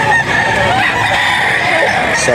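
A sweater-line gamecock rooster crows loudly and close, one long drawn-out call filling the moment.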